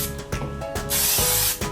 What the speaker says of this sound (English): we're going to spray a bowl, the same bowl we used